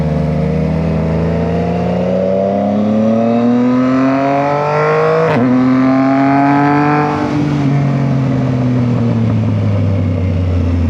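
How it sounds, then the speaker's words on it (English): Yamaha MT-09 motorcycle engine while riding, a loud continuous drone whose pitch climbs smoothly through the gears, with a sharp blip near the middle then steady cruising hum. "we gonna enjoy the little noises the bike be making when we riding it"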